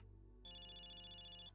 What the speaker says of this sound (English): You hear someone's phone ringing in front back.